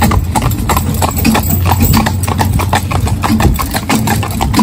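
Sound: motorbike engine beside a horse's hooves

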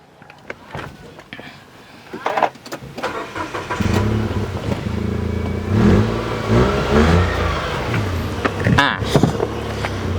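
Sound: Nissan Almera 2016 car engine running

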